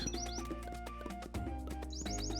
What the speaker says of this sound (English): Is that really gonna make those chirping noises the entire time?